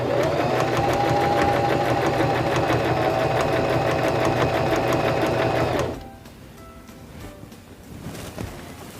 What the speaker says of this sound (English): Now we can press down on our foot control and sew.